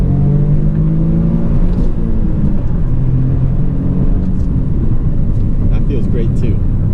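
A Toyota GR Corolla with an aftermarket shift knob pulls hard through its gears, the engine droning and rising in pitch under steady cabin noise while someone talks over it.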